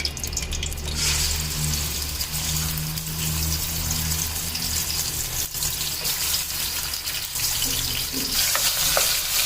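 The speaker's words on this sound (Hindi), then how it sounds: "अब चिकन को थोड़ा सा भून लेंगे।" Chicken fries in hot oil in a kadai for Afghani-style chicken karahi, producing a loud, dense sizzle with a low steady hum beneath and occasional stirring rustles, with no one speaking.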